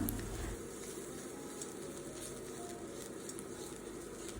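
Ivy gourd (kovakka) fry with pepper powder being stirred in a pan, giving a soft, continuous scraping and sizzling at close range with a steady level throughout. No one speaks.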